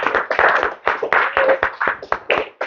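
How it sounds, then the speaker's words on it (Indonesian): A class of students claps in uneven bursts, close and fairly loud, with sharp hand claps fading in and out over a few seconds. "Tepuk tangan dong."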